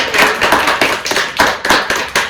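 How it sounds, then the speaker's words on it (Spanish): A few people clap in a rhythmic, close burst after an interview on World Agriculture Day, with sharp individual claps repeating at a steady pace. "Esto es un aplauso."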